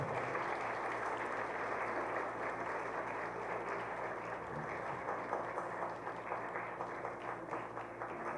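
Audience applause closing a forum on women in prisons, a continuous wash of clapping heard at moderate distance in a hall, steady and unbroken for several seconds without talk.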